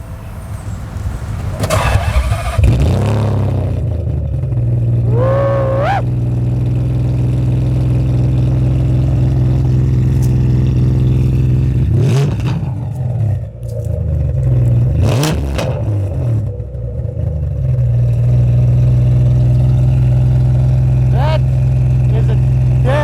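A Ferrari 575M Maranello fires up with a sharp crank and bark, then settles into a loud, deep, steady idle punctuated by several throttle blips, with people talking intermittently over it.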